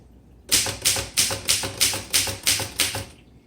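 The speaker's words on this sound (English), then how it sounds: "Right now I'm typing in the red" Typing on a 1926 Royal Model 10 antique typewriter with original glass keys, set to the red ribbon: eight crisp, evenly spaced key strikes clack loudly and close in a steady rhythm, with no talking.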